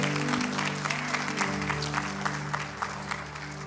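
A church congregation applauds warmly in a large room, clapping steadily throughout, with sustained music tones playing underneath.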